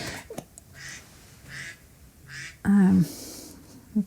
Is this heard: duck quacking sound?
yes